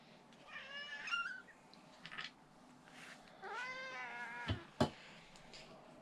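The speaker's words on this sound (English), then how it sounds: "There's a cat." A cat meows repeatedly, with several drawn-out, rising-and-falling cries spaced across the stretch and a couple of sharp knocks near the end, fairly faint overall.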